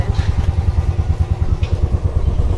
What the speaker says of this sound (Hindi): हम लोग निकले हैं बाइक पे